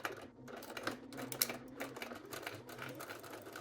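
A sewing machine runs the last few stitches of a trouser hem right along the fold, a quick, quiet, fairly close needle clatter in a steady stitching rhythm with slight speed changes.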